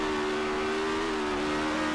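A loud, fast motorbike engine in the Roblox video game holds a steady, high-revving buzz with a strong sustained tone, continuous and unbroken for the whole short stretch.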